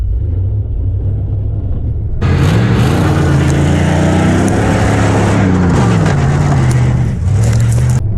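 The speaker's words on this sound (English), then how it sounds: "On four-wheel drive, we just go. That was some pretty deep sand." A Jeep Grand Cherokee ZJ with a V8 and a swapped manual transmission drives in four-wheel drive through deep sand, its engine rumbling loud and close and revving up and down after a quieter idle.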